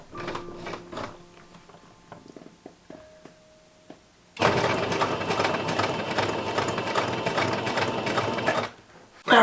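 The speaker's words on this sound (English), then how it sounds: "with the pieces assembled, it was time to top stitch again" Sewing machine topstitching assembled leather skirt pieces, a few soft handling clicks and a brief whir first, then a loud, steady run of several seconds that stops abruptly.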